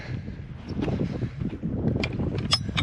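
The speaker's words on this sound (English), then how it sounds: "It's nice and light wind." Light wind on a sailboat lying at anchor makes a steady soft rush and low buffeting, with faint water and rigging sounds and some gusty microphone noise, close and continuous.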